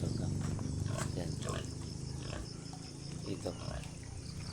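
A domestic pig grunts and snorts in short, irregular bursts close by, with people talking now and then.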